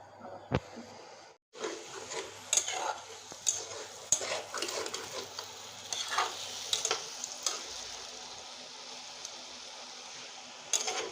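Soybean chunks and potatoes sauté in a pan until the potatoes break down, a quiet sizzle broken by repeated scrapes and clinks of a spatula against the pan.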